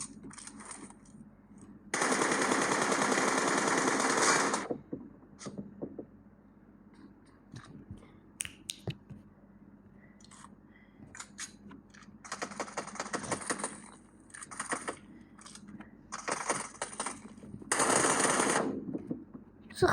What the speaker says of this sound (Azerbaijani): Mən vururam.